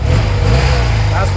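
A BMW R80 RT touring motorcycle with about 77,000 original miles runs close by, its engine giving a steady, even low rumble with no change in pace.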